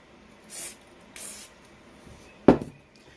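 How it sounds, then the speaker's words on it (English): Two short hissing bursts of carburetor cleaner spray on a plastic Briggs carburetor, close up, followed a moment later by a single sharp clunk. "Clean all this stuff off with some carb spray"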